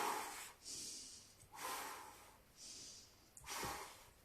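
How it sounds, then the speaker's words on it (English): Slow, deep breaths during a Pilates core exercise, three or four soft airy inhales and exhales close to the mic, evenly spaced and quiet. "Now take a deep breath in."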